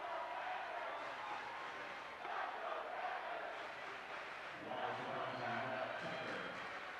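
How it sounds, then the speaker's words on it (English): A boys' high school basketball finals crowd cheers and roars in a gym, a sustained wash of voices swelling in waves, with a commentator talking over it. "Panther crowd starting to get into this even more than they have been throughout this game"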